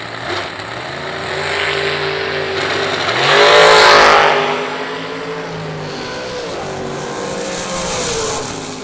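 A Pro Max dragster launches at the IHRA World Finals drag race, its engine a loud, harmonic-rich roar that surges to a peak a few seconds in, then settles into a sustained drone before swelling again.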